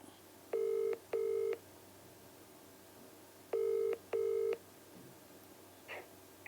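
Telephone keypad tones dial out for a legal-advice call: four short, loud beeps in two evenly spaced pairs over a quiet line, then silence.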